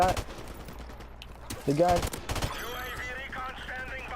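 A video game gun fires short bursts, several quick rattling volleys with a speaking voice running underneath.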